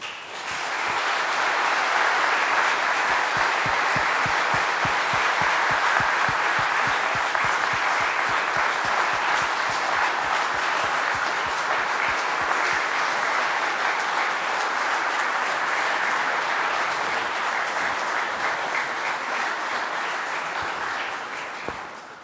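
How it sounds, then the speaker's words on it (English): Audience at a recovery meeting giving sustained applause, many hands clapping in a steady dense roar that holds for over twenty seconds before tapering slightly at the end. "Let's give him another round of applause, please."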